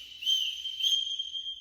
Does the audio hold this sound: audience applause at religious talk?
no